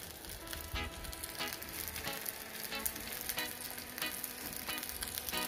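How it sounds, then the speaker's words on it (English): Steady, crackling sizzle of leg of lamb cooking on a rotisserie over hot charcoal, close up, with occasional sharper pops and no talking. "Look at the sizzle."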